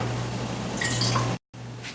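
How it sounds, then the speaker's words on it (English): A wee bit of water is poured into a pot sprinkled with turmeric while making tahdig, a short close trickle over a steady low hum, briefly cut off, then resuming faintly. "Add a wee bit of water."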